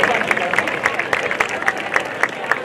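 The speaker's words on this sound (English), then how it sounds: "Another round of applause, please, for all of our athletes." A crowd applauds athletes at a high school semester awards ceremony, with rhythmic, evenly spaced claps over a background murmur of voices, moderately loud and continuous.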